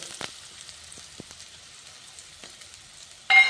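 Mustard seeds spluttering in hot oil while onion and garlic chitranna rice is cooked: faint scattered pops and crackles, then a sudden loud sizzle near the end as the seeds hit the oil.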